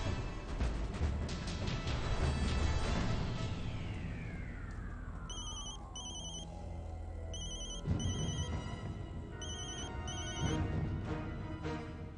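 A phone rings in repeated short electronic bursts, spaced evenly over a busy background of music and sound effects in a Hindi TV drama scene.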